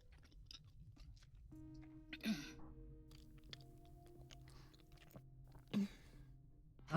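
Faint, close chewing and crunching from eating in the video game Haven comes in soft irregular bursts over quiet sustained musical tones, with no talking.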